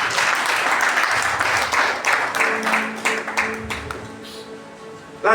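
A church congregation applauds during a sermon, a dense burst of clapping that thins and fades over a few seconds with scattered claps and a faint voice underneath.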